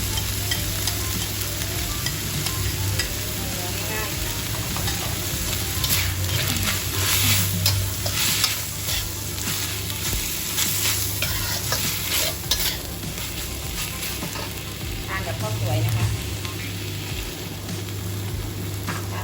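Bamboo shoots sizzle and crackle steadily in a hot pan while being stir-fried and tossed, continuous frying noise up close with no voices.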